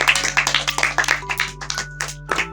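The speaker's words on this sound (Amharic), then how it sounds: "አጨብጭቡላቸው።" Children clapping together in a short burst of rapid, uneven hand claps, close and lively, with no talking.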